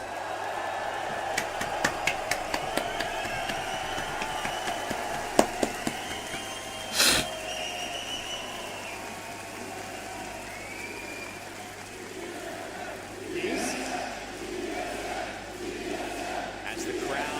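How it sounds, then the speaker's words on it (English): An esports crowd at an ALGS watch party cheers and whoops after a tournament win, scattered claps and shouts followed by a sharp loud burst and later swells of voices across the room. "Crowd, make some noise!"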